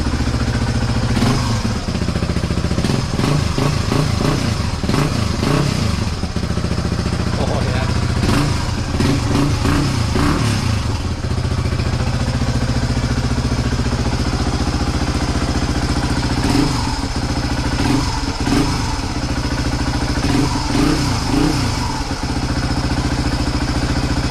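A motorcycle engine fitted with a new exhaust idles steadily nearby, its rumble rising and falling with periodic revving bursts throughout.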